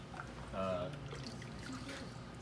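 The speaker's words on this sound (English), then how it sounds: "And then really quickly and evenly just pour it back in." Ceramic glaze is poured quickly back into a small bucket, giving a short soft liquid splash and trickle at close range amid low background noise.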